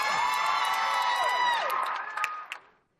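A convention crowd cheers, whoops and shouts for Buffy at Wizard World St. Louis, a loud, sustained roar with high voices on top. It fades out in the final second.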